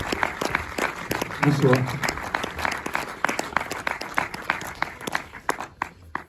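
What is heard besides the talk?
audience applause at a cinema screening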